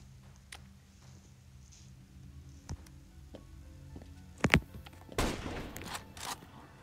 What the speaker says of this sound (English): I think I accidentally shot again